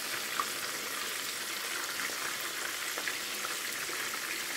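Food fries steadily in a pan, a continuous close sizzle with faint crackles and pops throughout, no voices over it.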